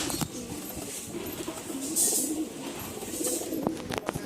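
Faint, low coos from a caged green pigeon up for sale drift through a few seconds of steady background noise, soft and intermittent.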